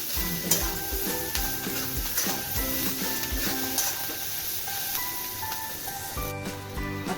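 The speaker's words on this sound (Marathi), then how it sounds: "आता आपण सुकं खोबरं आणि ओलं खोबरं त्याच्यामध्ये छान भाजून घेणार आहोत" Onion with dry and fresh grated coconut is roasted in a pan, with a steady close sizzle and frequent scraping strokes of a spatula stirring the mixture throughout.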